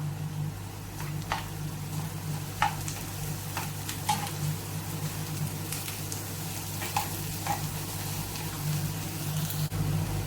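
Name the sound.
garlic, ginger and green chilli sautéing in pan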